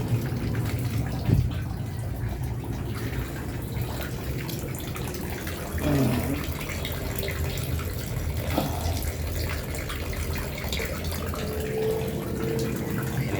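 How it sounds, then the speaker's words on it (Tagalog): Water from a municipal supply runs steadily from a tap into a tilapia pond in a low, continuous rush, with a few brief knocks and splashes along the way. "bubuksan natin ngayon yung gripo"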